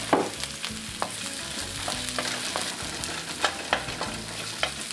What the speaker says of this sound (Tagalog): Ihulog ang bawang sa pinainit na mantika sa kawali. Isunod ang ginayat na pahabang sibuyas